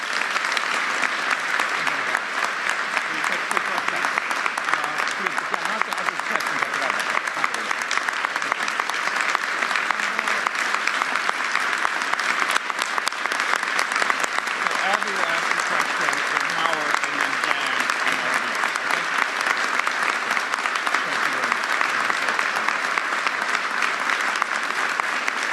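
Sustained applause from a large audience following a mayoral address, dense and even clapping at steady loudness throughout with no pauses.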